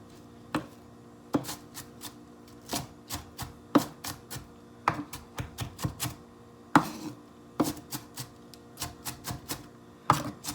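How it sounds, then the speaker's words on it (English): Knife mincing vegetables for pico de gallo on a cutting board, sharp irregular chops in quick clusters and single strikes, close and clear with no talking. "Just mince these up really fine."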